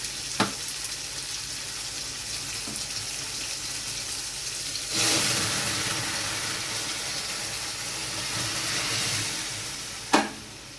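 Boiled dal is poured into sizzling tomatoes in a pan, with a rushing splash and hiss that swells midway and continues, framed by sharp metallic knocks at the start and near the end over steady frying.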